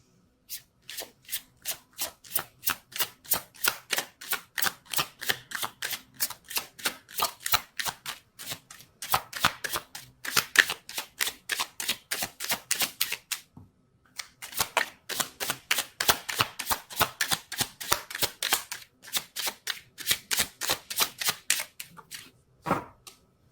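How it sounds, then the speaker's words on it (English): Tarot cards being shuffled over and over in a quick, even rhythm of crisp flicks and snaps, close by, with one short pause partway through. "Let's see if I can shuffle."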